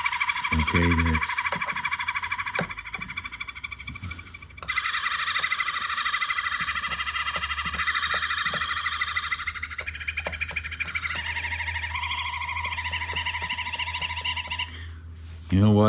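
A Dubreq Stylophone S2 analog synth plays a series of electronic tones: warbling chirps and sustained buzzy notes that step and bend in pitch, with a brief voice at the start and a drop near the end.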